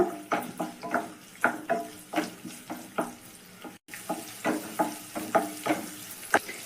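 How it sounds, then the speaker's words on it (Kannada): Chopped onions fry in hot oil in a pan, crackling and sizzling close up with repeated scraping stirs in an uneven rhythm, alone without talk. "ಎಣ್ಣೆ ಬಿಸಿಯಾಗಿದೆ ಈರುಳ್ಳಿ ಹಾಕಂತ ಇದ್ದೀನಿ ಸ್ವಲ್ಪ ಫ್ರೈ ಮಾಡ್ಕೊಳ್ಳೋಣ"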